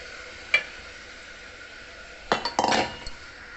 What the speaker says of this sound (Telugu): ఇప్పుడు ఈ బియ్యము పప్పు కడిగింది వేసేసుకుంటున్నాను